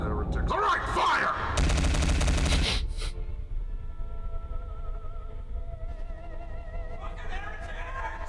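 Heretics in a Warhammer 40k battle shoot each other down with a dense, loud burst of rapid automatic gunfire lasting about a second. Quieter rumbling combat noise and faint voices follow.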